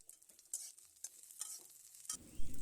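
Chopped green chili and capsicum being stirred and fried in a pan for egg chowmein: repeated scraping stir strokes over a soft sizzle, close and fairly quiet, with a heavier clatter near the end.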